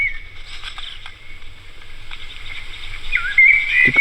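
Several birds chirp and trill at a distance in a forest by ponds, with thin repeated calls and a louder rising note toward the end, over quiet low rumble.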